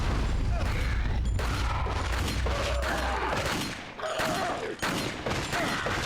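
Explosion in the Dead Rising video game: a burst of loud booming and crackling blasts followed by rapid chaotic bangs and clatter, with game noise continuing after.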